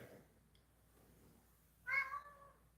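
A single short cat meow rises near the end after quiet, faint background murmur, close and moderately loud.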